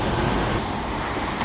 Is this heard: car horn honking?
yes